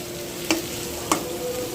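Onions frying in a pan at home, a low steady sizzle beneath two sharp utensil knocks against the pan, no voices.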